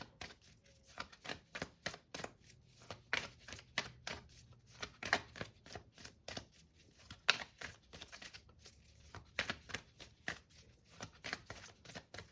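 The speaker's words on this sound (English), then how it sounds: "let me pull an oracle card for you" A deck of oracle cards is shuffled over and over in quick, crisp riffling bursts, close up and fairly quiet, with short pauses between runs.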